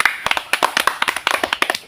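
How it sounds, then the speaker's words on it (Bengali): A small group claps for the winner of a children's game, quick uneven hand claps in a close, lively burst with no talking. "জোড়াটা হাততালি দাও"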